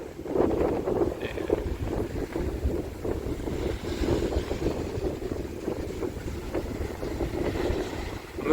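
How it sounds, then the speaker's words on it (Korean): Strong wind at the seaside on an island with clear sea water, blowing as a steady gusty roar that buffets the microphone, with a faint wash of water beneath and no voices. "오늘은 바람이 좀 세요."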